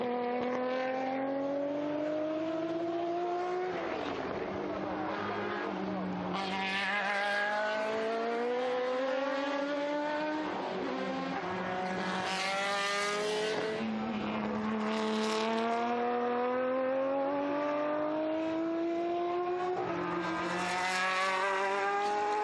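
Historic race cars, including a 2-litre Group 6 sports prototype, roar through the Estoril circuit, engines rising and falling in pitch through repeated upshifts and downshifts, loud and close, without talk.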